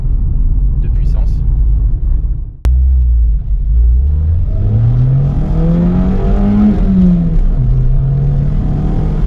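A 1985 Mazda 626 coupé engine revs loudly while driving, its tone rising steadily toward high rpm and then easing off, with a constant road rumble underneath.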